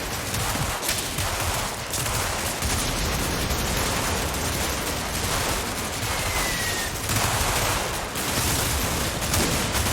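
Sustained heavy gunfire pours onto an advancing platoon in the wargame Combat Mission, a dense, continuous roar of rifle and machine-gun bursts at steady loudness for the full length with no pauses.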